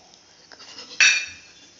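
Chocolate ice cream mixture being stirred in a bowl, with faint scraping that ends in one sharp, bright clink of a spoon against the dish, close and alone.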